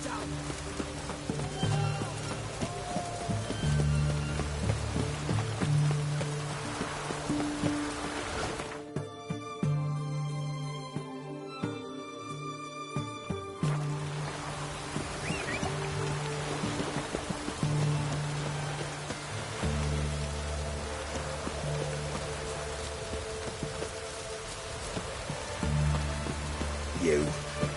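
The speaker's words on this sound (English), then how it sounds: "It's raining, of course it's going to be damp." Steady rain falling in The Witcher video game, a constant soft patter layered with plodding horse hooves and sustained musical tones, with a brief gap in the middle where the rain drops away.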